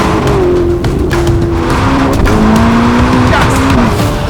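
A 1,109-horsepower Novitec Ferrari SF90 supercar engine screams under hard acceleration, its pitch climbing and dropping with gear changes, loud and close with a steady roar underneath.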